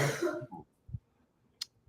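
A single short, quiet cough follows a brief burst of low talk, then near silence with a faint click.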